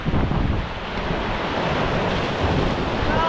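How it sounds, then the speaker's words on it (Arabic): Sea waves wash ashore in a steady loud roar of surf, with rushing water and wind buffeting the microphone throughout. "انا هنا والبحر يجي عندي"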